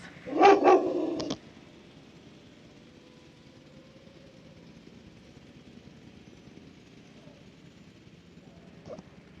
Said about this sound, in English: Just had to mute because my dog was going nuts.